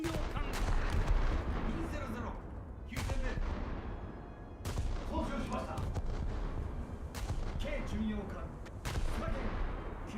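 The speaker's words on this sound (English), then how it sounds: "let's just fire one salvo," Battleship guns firing salvos in a naval combat game: heavy booming blasts at intervals of a few seconds over constant rumbling battle noise, with someone talking throughout.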